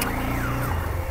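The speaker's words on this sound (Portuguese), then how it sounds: "disparei o alarme" A car alarm blares loud and close in a steady, continuous tone with a sweeping pitch, filling the whole moment without any voices.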